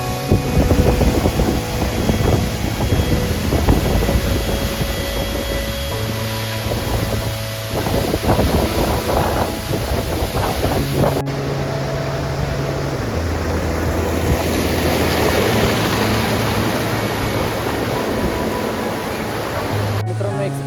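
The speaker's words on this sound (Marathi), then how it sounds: "एक्सपेक्ट नव्हतं केलं एवढं पाणी असेल त्या वसुंधरा वॉटरफॉलला" Heavy water rushes continuously at Vasundhara waterfall in Bhandardara, a loud steady roar with wind buffeting the microphone and a low hum running under it.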